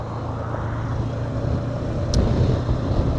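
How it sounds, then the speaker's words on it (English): Steady, dense wind rush buffets the microphone while riding a motorcycle on an early-morning road in rural Thailand, a constant low roar with a faint engine drone beneath and a brief sharp click near the end. "it's a little bit windy"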